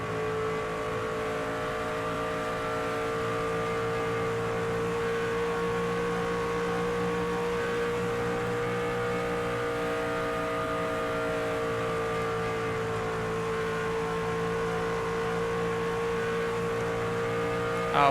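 Race truck engines in a NASCAR 25 video game hold a steady, loud droning whine on track, with layered sustained pitches that shift slightly, continuous for the whole stretch without talk.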